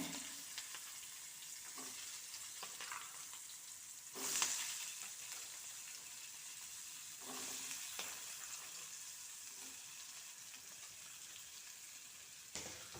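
Green chillies sizzling in a hot pan with asafoetida, a steady bright frying hiss with occasional louder spits and stirring clinks, with no talking over it.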